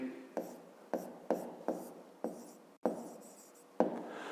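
A pen scratches across paper while working a fifth-grade maths exercise, a series of about eight short strokes in a steady rhythm, quiet and close, no talk.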